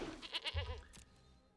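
Goats in the MTG Arena card game let out a short, close bleat with a wavering, nasal tone that ends quickly, followed by a brief, faint tail.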